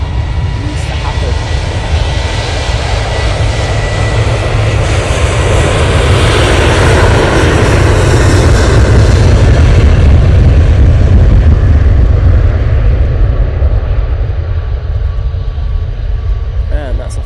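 A fixed-wing aircraft taking off at Manchester Airport roars loudly and steadily throughout, a broad, rumbling engine sound that swells toward the middle and stays strong to the end, with a voice faintly present in the background.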